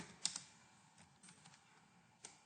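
Keys clatter on a computer keyboard as a kubectl command is typed, with a few sharp clicks near the start and one near the end. The keystrokes are quiet and close, and no one talks.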